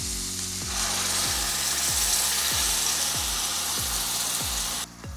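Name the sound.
garlic and onions frying in a pan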